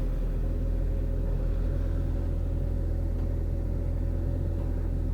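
A Ford Mustang engine idles nearby after months out of service, a constant deep rumble with an even low throb and no revving, alone without voices.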